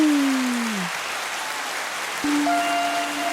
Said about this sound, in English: Oh, that clapping keeps going.